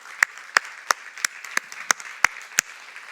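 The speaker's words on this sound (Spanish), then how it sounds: "Dale un aplauso, Señor." Eight sharp, evenly spaced claps ring out in a church worship service, a steady slow beat carrying over a faint room background with no other sound competing.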